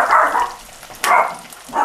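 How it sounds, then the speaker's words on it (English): Sally, a house dog acting as guard dog in a home kitchen, barks three times in short separate bursts, close and fairly loud, with quiet gaps between them. "Every time we start filming, Sally has to be guard dog."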